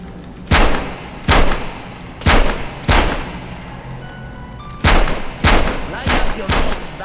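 Bursts of gunfire from a Metro shooter game ring out in short volleys, loud and close, with pauses between the clusters of shots and no voices over them.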